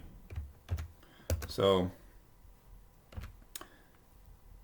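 Keyboard typing during a biology coursework session, a few short clicking bursts and a quick run of keystrokes, close and quiet, with brief speech mixed in.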